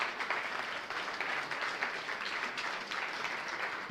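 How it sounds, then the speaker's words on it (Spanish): A church congregation claps together, a soft, steady wash of many hands heard from some distance, fairly quiet and unbroken throughout, with no talk over it. "Le damos un fuerte aplauso al Señor."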